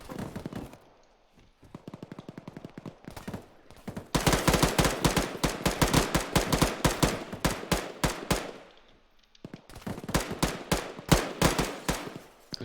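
Rapid bursts of gunfire in the Arma 3 military shooter game, with sharp repeated shots and sustained automatic fusillades in several clusters, loud and close, with no voices over them.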